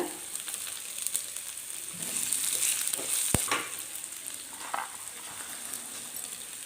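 Chopped ginger and green chillies sizzling in hot oil in a pan, a steady broadband frying hiss throughout with a brief sharp clink near the middle and occasional stirring scrapes.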